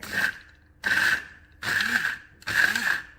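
Blender working on a thick, too-dry curry paste, running in four short whirring bursts with brief pauses between, the motor labouring and sounding strained.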